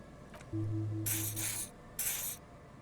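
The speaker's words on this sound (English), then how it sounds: "He does you with the odd-smelling spray, a double helping as you present your other armpit" Pheromone spray in Disco Elysium applied under the armpits: a low hum, then two separate close bursts of hissing spray, each lasting about half a second.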